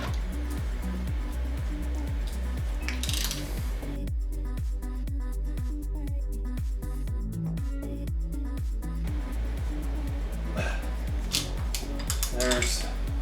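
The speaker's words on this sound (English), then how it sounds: "it tells you to rotate the crankshaft 2 complete turns" A Mitsubishi 4G63 engine's crankshaft is turned by hand with a ratchet, giving a steady run of close, crisp clicking pawl ratchets with brief metallic clinks and pauses.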